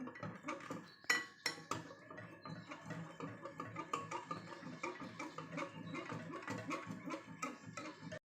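A spoon clinks and scrapes in a bowl while cornflour is mixed into grape juice for a sweet, with quick, steady, fairly quiet taps close by and a few sharper knocks at the start.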